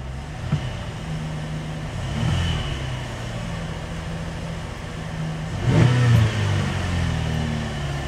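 A 2016 GMC Acadia with a newly swapped engine runs at a steady low idle, with a couple of brief revs rising above the even rumble.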